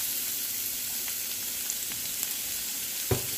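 Scallion, ginger, garlic, chili and star anise sizzle in a hot wok, a dense continuous hiss of frying with a few small pops and stirring clicks, one louder knock near the end, and no voices.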